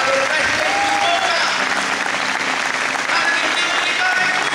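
Church congregation applauding the Lord during a sermon, loud sustained clapping from many people with faint shouts and cheers mixed in.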